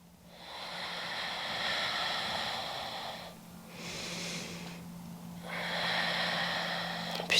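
Slow, deep breaths during gentle yoga in bed: three long airy cycles, each a sustained inhale or exhale separated by short pauses, close to the microphone with no talking.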